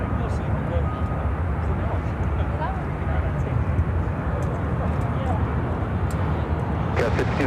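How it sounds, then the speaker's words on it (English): United Airlines Dreamliner arriving at Chicago O'Hare from Munich, a loud, steady broadband jet roar that holds throughout, with a voice speaking over it. "Our next arrival on 10 Center, United Airlines Dreamliner coming in from Munich"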